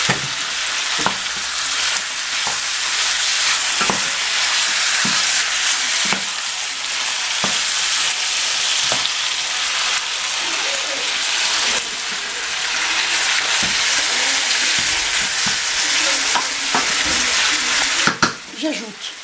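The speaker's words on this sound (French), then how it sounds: "Je vais rajouter un filet d'huile. Pour pas que les graines accrochent au fond." Whole spice seeds frying in oil at the base of a chicken colombo sauce, a steady close sizzle with scraping stirs and light clicks throughout.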